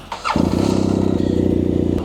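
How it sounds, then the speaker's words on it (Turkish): A motorcycle engine starts up in the snow in near-freezing winter weather in Istanbul: a brief cranking whir, then it catches and settles into a loud, rapid, steady idle close by. "şöyle motoru açayım"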